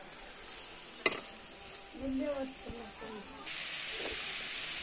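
Beetroot fry being stirred in a pan, with a steady sizzling hiss, a couple of sharp utensil knocks near the start and soft scraping, the sizzle growing louder toward the end.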